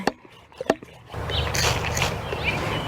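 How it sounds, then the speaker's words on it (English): A few sharp clicks, then a steady close hiss of a pump sprayer spraying Monarda plants in continuous bursts. "I've got a pump sprayer, and so that's what I'm going to use on my Monarda plants here."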